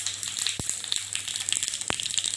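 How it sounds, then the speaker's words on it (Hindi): Cumin seeds crackle in hot oil for a tadka with the gas switched off, a soft, steady hiss broken by a couple of sharp pops. "तो तड़का लगाने के लिए ये देखिए तेल मेरा गर्म हो गया है, गैस को बंद कर दीजिएगा"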